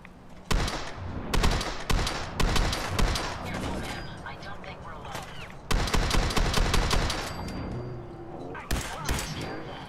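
An Institute rifle fires in Fallout 4's Far Harbor, heard as sharp, loud shots in rapid bursts separated by short pauses, with a faint steady tone underneath.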